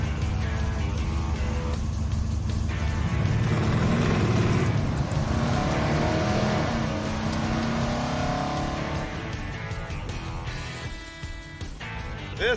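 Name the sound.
1969 Chevy Suburban driving on a dirt road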